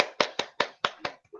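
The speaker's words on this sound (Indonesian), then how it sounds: "Kita berikan tepuk tangan dan semangat untuk Bu Eneng, Ibu Bapak semuanya." Several people clap together in a short burst at an indoor training session, about five sharp, evenly spaced claps close by, trailing off into a softer final clap with no voices.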